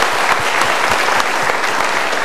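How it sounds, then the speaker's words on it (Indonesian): A studio audience at a motivational talk show gives a short, loud burst of applause. Individual claps are audible within a continuous wash of clapping. "Kita berikan tepuk tangan dulu."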